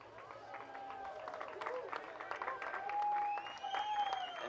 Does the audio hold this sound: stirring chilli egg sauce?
no